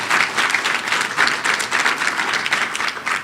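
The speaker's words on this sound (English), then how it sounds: "so a round of applause for Dr. Mills" Steady applause from a seated meeting audience fills the room, a continuous wash of many hands clapping at even loudness for a birthday cheer during an HIV commission session.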